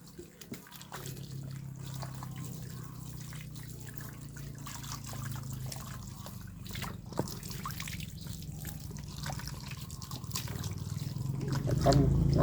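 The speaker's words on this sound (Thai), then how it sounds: "ใช้น้ำฉีดแรงๆฉีดเยอะ" A water hose sprays hard and steadily while a muddy dog is washed, a continuous hiss with soft splashing and dribbling, fairly close and swelling louder toward the end.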